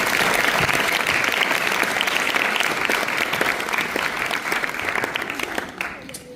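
An audience at a school open-stage show applauds: dense, steady clapping from a crowd that carries on for several seconds, then thins and fades at the end.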